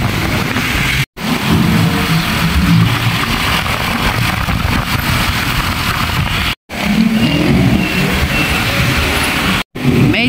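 A car travels along a road in light traffic near Cubao, with a steady engine drone and road rumble throughout and a few brief cutouts of near silence.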